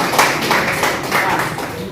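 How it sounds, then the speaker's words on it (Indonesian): Classmates clap for a student group after a presentation in a sports testing and measurement class, a short, uneven patter of hands in a room, fairly close and loud, with no one speaking. "tepuk tangan untuk kelompok 2"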